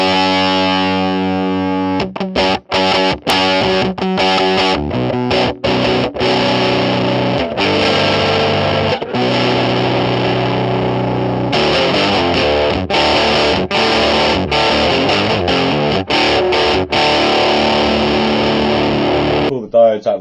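Loud distorted electric guitar through a modded RAT distortion pedal, playing sustained chords and riffs, with a brief pause near the start before the gritty, saturated tone resumes continuously.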